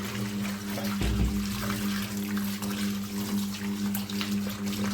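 Potato slices for wafers are scrubbed and rinsed by hand in a basin of water, giving steady sloshing and splashing that runs throughout over a low, constant background hum.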